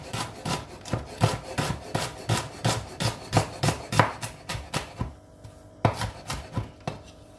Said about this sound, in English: Slice some onion.